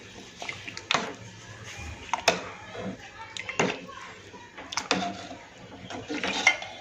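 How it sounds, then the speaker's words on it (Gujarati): A spoon knocks and scrapes against a pot while dal is mashed over medium heat, the irregular metallic clatters coming close and fairly loud, with a voice talking throughout. "દાળ આપણે આની અંદર મેશ કરી દઈશું"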